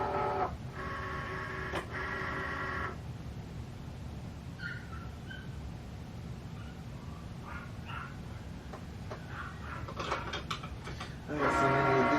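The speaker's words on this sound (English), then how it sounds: "It's my Cricut over here." A Cricut cutting machine runs nearby, giving a whirring, buzzing mechanical motion for a few seconds, then quieter faint clicks and shuffling, before the motor whirs up again at the end.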